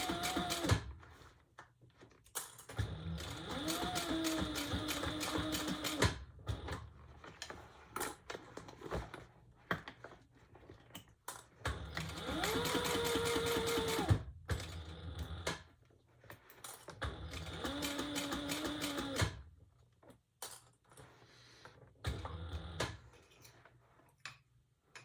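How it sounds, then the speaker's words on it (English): A sewing machine stitches an unlined leather tote in several separate runs, a fast even mechanical ticking and whirring lasting a few seconds each, with quiet pauses between passes and no talk. "I'm going to do another row stitching around the top."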